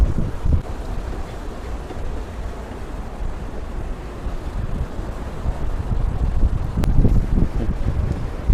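Strong, steady wind buffets the microphone on a newly built seaside promenade in Mumbai at evening, with a constant low roar and faint surf-like wash and no voices.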